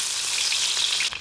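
Oil and chilli fry in a pan with a bright, continuous sizzle, close and steady for a brief moment before tapering slightly.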